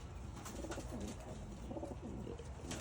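Pigeons kept for flying coo softly and repeatedly at close range, low rolling calls overlapping against a steady background hum.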